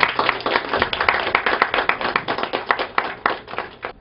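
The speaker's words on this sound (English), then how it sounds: "On les applaudit très fort." Steady applause from a crowd at a community welcoming ceremony for an American and his wife among Ivorians, dense rapid clapping that holds at an even level throughout.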